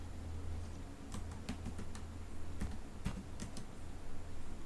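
A computer keyboard gives a short run of irregular keystrokes as a password is typed at an Oracle database SQL command line, with sharp clicks over a low steady hum.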